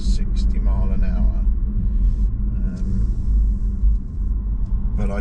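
An electric car cruises steadily on a motorway at a constant 60 mph in cold weather, its loud, continuous low road rumble and tyre roar filling the cabin without a break.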